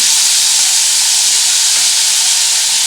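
Black cumin (kalonji) sizzling in hot oil while cooking prawns with snake gourd, a loud steady high hiss that continues unbroken throughout.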